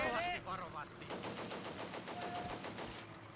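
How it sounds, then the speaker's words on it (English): Russian guns in the World War II strategy game Combat Mission: Barbarossa to Berlin keep firing in a rapid machine-gun rattle near Viipuri, a steady run of close shots while a voice talks over it. "Russian guns are firing non-stop, keeping us at bay"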